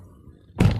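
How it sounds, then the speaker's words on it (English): A 2018 Honda HR-V car door shuts with a single short, solid thunk right at the end, following near-silence. "Alright, let's go ahead and shut the door"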